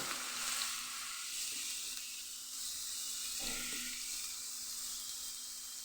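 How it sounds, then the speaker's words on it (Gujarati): Grated bottle gourd sautéing in a pan for halwa, a steady soft sizzle running continuously with a faint stir or scrape partway through, close and alone without talk. "દૂધીને આપણે શેકી લઈશું"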